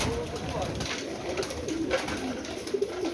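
Teddy pigeons in a breeder loft give soft, repeated low coos against a steady background hum, with faint voices in the mix.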